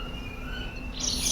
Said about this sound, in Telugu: ఇక్కడ వచ్చే పక్షుల సౌండ్కి స్పెషల్ అనిపిస్తుంది